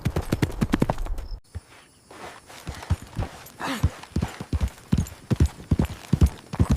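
A horse walking along a dry desert trail, its hooves clip-clopping in a steady close rhythm, with one brief pause before the hoofbeats resume, and no speech.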